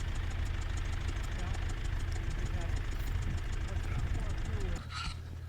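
A skidder's heavy engine idles steadily with a low, constant rumble throughout, then drops slightly near the end as a short clatter sounds.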